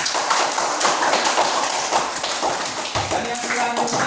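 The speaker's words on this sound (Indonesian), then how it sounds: "tepuk tangan untuk kita semua" Classroom group clapping together for a teaching-practice class, a dense burst of many hands at close range that stays steady for about four seconds, with a voice starting up near the end.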